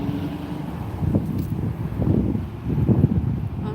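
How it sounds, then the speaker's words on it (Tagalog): Wind gusting outdoors at a street crossing, a steady low rumble of buffeting with stronger surges around the middle and end, no voices present. "Medyo mahangin."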